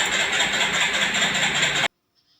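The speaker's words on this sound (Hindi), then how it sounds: "इस बाइक का सेल्फ लगाता हूँ तो ये बाइक सेल्फ लेती है मगर स्टार्ट नहीं होती है।" A Hero Glamour BS6 motorcycle's electric starter cranks loudly and steadily for almost two seconds, then cuts off abruptly without the engine catching, due to a current supply problem.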